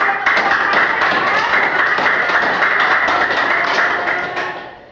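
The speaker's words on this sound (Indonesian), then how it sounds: "Tepuk tangan." A classroom of students claps hands together after a group presentation, a dense, steady patter of many claps lasting several seconds before tapering off at the end.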